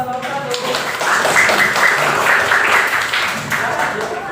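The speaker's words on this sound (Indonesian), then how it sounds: "silakan kasih tepuk tangan yang mulia buat kelompok 1" A classroom audience claps for a student group after its presentation during a teaching practice exam, a dense, steady patter of many hands that swells and then tapers, with voices talking over it.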